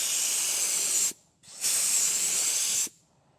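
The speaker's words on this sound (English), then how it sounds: "So we're just gonna put sanding sealer on it." Sanding sealer sprayed onto a guitar headstock: two close, loud bursts of steady hissing spray, each about a second long, separated by a short pause, with no talking.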